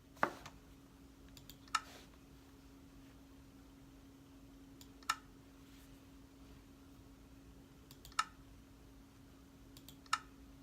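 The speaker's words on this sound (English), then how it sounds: "space key has a different sound from all of them" Rii gaming keyboard keys struck one at a time at a slow, uneven pace, about five sharp clicks spread apart over a low steady hum, with no talking.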